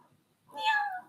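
A person imitates a cat with a single drawn-out vocal meow, rising and falling over about half a second, close and fairly loud after a brief quiet moment.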